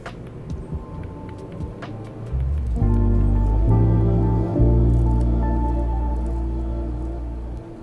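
Water poured from a kettle onto ground coffee in a V60 pour-over for iced coffee, a soft trickling stream that begins after a few quiet seconds and runs steadily to the end, close and alone.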